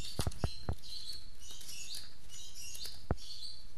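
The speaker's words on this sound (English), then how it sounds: "if you hear a bird in the background, I apologize for that" Faint high chirps of a bird calling in the distance, with several soft clicks and taps nearer by.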